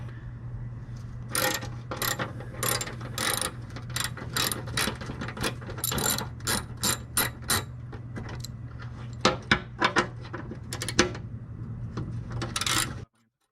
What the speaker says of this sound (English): A 1/2-inch socket will get all the bolts out.